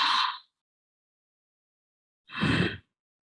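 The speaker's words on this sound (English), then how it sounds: "Some people also call it Darth Vader because it sounds like Darth Vader when you breathe." Two slow, airy breaths of ujjayi-style yogic breathing, a soft hissing breath through the nose with a throaty constriction; a short one at the start, then after a pause a fuller, lower rasping breath, close and alone.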